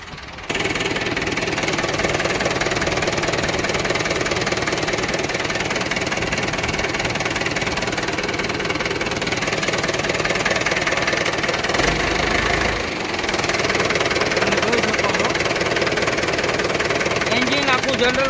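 A Mahindra 475 tractor diesel engine runs steadily at idle with a knocking, throbbing rumble, close and loud throughout, with a voice speaking over it.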